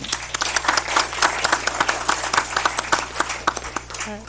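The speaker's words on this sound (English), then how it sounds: "Let's give her a round of applause." Applause at a school district meeting for a 12th grade student, distinct individual claps from a modest gathering in a steady patter, with a brief voice near the end.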